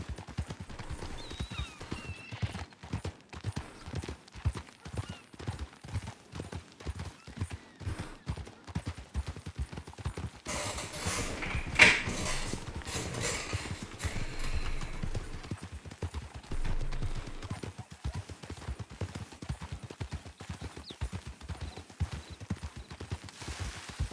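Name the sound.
horse hooves clip-clopping in video game RedM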